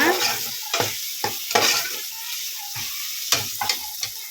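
Tomato and spice mixture frying in a pan for coconut milk rice, stirred with repeated scraping strokes over a steady close sizzle, heard alone without talk.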